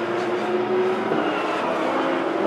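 A Porsche race car, number 1, in the final kilometres of a race at the Paul Ricard circuit heading for the finish line: a loud, steady engine drone that holds without a break throughout.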